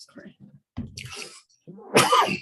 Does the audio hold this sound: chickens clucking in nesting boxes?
no